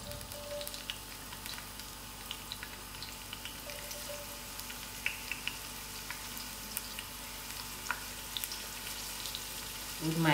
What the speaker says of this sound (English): Firstly, I'm going to add in my onions.